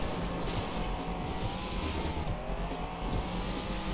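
Race cars from the Game Boy Advance game Hot Wheels: World Race roar steadily at close range, a dense, unbroken engine drone with faint tire noise and no pauses across the stretch.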